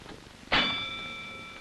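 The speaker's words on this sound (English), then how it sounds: "Ring the bell." A single bell rings once with a sharp strike, then its clear tone lingers and slowly fades, heard alone in an otherwise quiet indoor setting.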